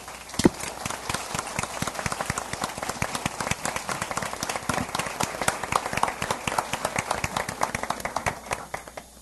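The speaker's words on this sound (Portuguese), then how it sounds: "vamos recebê-lo com um aplauso." Audience at an evening philosophy talk applauds to welcome the guest speaker, brisk individual claps rattling rapidly and fairly close for several seconds, tapering slightly near the end.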